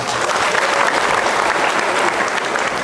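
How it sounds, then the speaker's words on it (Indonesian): A short, dense burst of applause from an audience at an arts and culture event, even and loud throughout with no talking on top. "Ya tepuk tangan"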